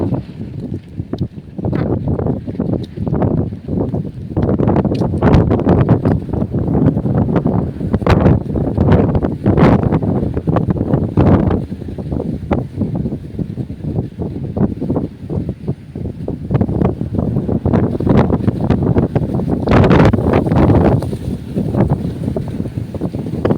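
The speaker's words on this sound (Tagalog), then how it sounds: "Masyadong malakas ang hangin" Strong typhoon wind buffets the microphone in loud, continuous gusts, with rustling and rumbling throughout and no voices.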